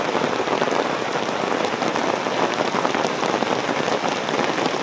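Steady rain pours down on a surface in high hill country, a dense, even hiss of drops with no voices.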